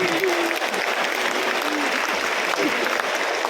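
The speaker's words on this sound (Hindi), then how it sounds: "आप लोग जोरदार तालियां बजाइए" Audience in a large auditorium hall applauding loudly at a comedy show, a continuous, thick roar of clapping with a few voices and a brief vocal tone mixed into the crowd noise.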